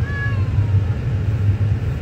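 A cat gives a brief high meow at the start over a steady low engine hum inside a car, then only the drone continues.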